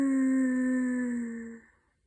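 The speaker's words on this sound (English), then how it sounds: "the baby whale sang a long, deep whistle of relief" A single long, deep tonal whistle from a baby whale, with rich harmonics, steady and loud, then slowly fading away over about two seconds.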